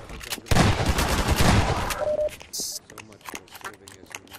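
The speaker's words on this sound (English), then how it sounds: "I like the shotgun better." Shotgun fire in Half-Life 2, a loud close blast with a roaring burst of noise followed by quieter chatter and game sounds, with a voice speaking alongside.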